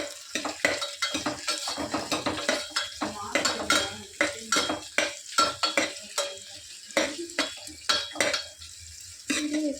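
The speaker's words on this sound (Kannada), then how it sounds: "ಈರುಳ್ಳಿ ಹಾಕ್ಕೊಂಡು ಚೆನ್ನಾಗಿ ಈ ಥರ ಫ್ರೈ ಮಾಡ್ಕೊಬೇಕು." Onion frying in a pan for veg pulao, stirred steadily with a utensil that scrapes and clinks against the metal in a repeated rhythm over a constant close sizzle, with no talking.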